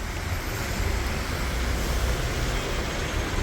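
A street in Sultangazi, Istanbul, jammed around two broken-down İETT city buses, one of them an articulated bus, gives a constant broadband roar of traffic and wind noise, steady and fairly loud, with no one talking.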